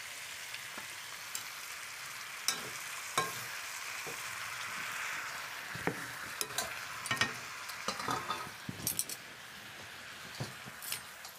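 Tomatoes sizzle and fry in a pan while being stirred for a Kali Mata bhog offering, with a steady soft hiss broken by scattered scraping and stirring clicks, close and without talk.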